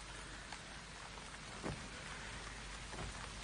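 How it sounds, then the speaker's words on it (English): Steady rain falls in a continuous hiss with scattered close drops and soft patters, moderately loud and without any talk. "The rain is clearing"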